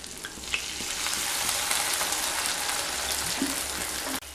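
Fish curry simmering in a pan with potatoes, water poured in and stirred, giving a steady broad sizzle with scraping spoon taps and a clunk near the end; close and fairly loud, no talking.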